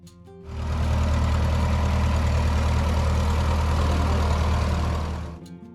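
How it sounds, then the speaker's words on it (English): Minneapolis-Moline Z tractor engine idling, a low, steady rumble that fades in, holds evenly for several seconds, then tapers off. "Minneapolis-Moline Z."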